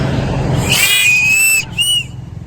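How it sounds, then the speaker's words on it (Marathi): A handmade whistle blown at a village market in Vaghai, Gujarat: a long, shrill tone held for about a second, then a shorter second blast, over steady market background noise. "बाबाकडे मस्त शिट्टी विकायला बनवतो का बाबा शिट्टी?"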